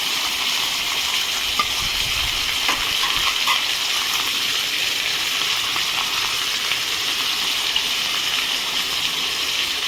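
Paneer, onion and capsicum sizzle in hot oil, a steady, close crackling hiss that carries on without a break and with no voices.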